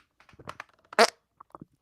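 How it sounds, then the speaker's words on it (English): Fart noise during a live podcast, a short burst in the middle preceded and followed by small scattered sounds, close and fairly loud. "Fart noise."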